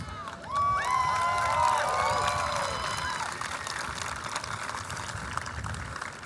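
A graduation crowd at Marlborough High School's ceremony for the Class of 2022 bursts into loud applause and cheering, with whoops and whistles rising early, then settles into sustained, slightly fading clapping.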